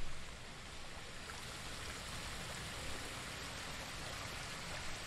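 Waterfall in the video game Ghost of Tsushima, a steady broadband rush of falling water that stays even and fairly faint throughout, with no voices.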